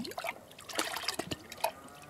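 EM solution being stirred into warm water in a jar, giving soft irregular sloshing and trickling liquid sounds with small splashes, close and fairly quiet, with no voices.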